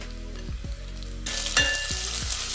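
Chopped garlic, grated ginger and two cut green chillies sizzle with onions in hot oil for a lobia masala curry, a close, crackling fry with a few soft stirring scrapes and a brighter burst of sizzle midway.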